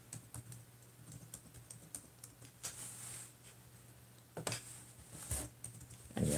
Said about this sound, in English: let me type out the PayPal there